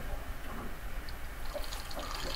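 Water running into the bilge of a new sailboat during commissioning to test the bilge pumps, a steady close splashing and pouring wash that continues without a break.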